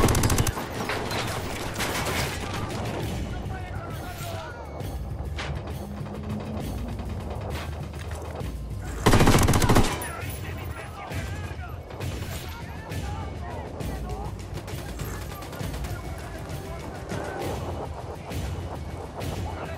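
Dense, sustained automatic gunfire in Ghost Recon Wildlands with a heavy frag grenade blast bursting through midway, loud and close, with voices calling out over the firefight.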